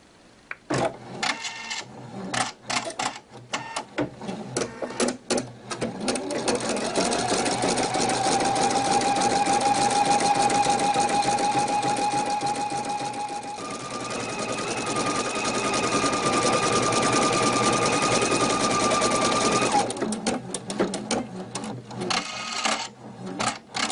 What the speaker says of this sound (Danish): Så er vi klar til at sy.